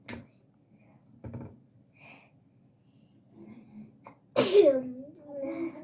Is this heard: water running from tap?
no